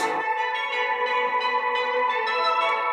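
Church bells ringing within a song, a steady ringing tone with rich, sustained overtones that holds at an even, fairly loud level for about three seconds.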